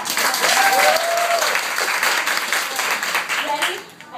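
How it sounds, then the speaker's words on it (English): Applause from an audience at an in-person gathering, steady and fairly loud from start to finish, with a few voices calling and cheering over the clapping. "Give her a round of applause."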